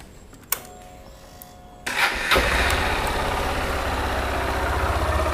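A click, then a Honda XRE 190 motorcycle engine cranks and catches, settling into a steady, close idle that rumbles on without any voices.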